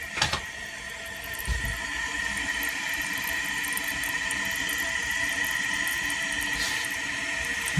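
An American Standard Cadet 3 toilet tank refills after a flush, a steady hissing whine of water through the fill valve, constant and fairly close, with a faint knock or two.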